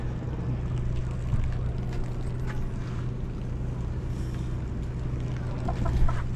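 Chickens cluck faintly aboard a boat over the steady drone of its engine, with a few sharper calls toward the end.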